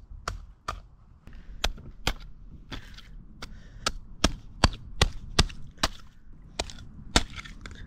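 Sea urchins smashed one after another with an abalone shell at a tide pool, about fifteen sharp, crisp cracking hits in an uneven rhythm, close and loud with no other sound.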